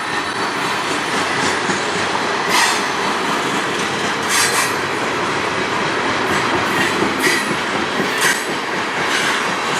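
A long CN freight train, about 12,000 feet, rumbles past nearby in Sarnia, Ontario, with steady rolling roar, rhythmic wheel clatter and occasional metallic squeals, continuous throughout.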